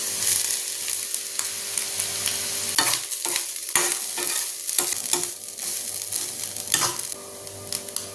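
Curry leaves and grated coconut fry in a pan for a fish curry, a steady sizzle with repeated scraping strokes of a spoon that come in uneven bursts. It stays loud and close throughout.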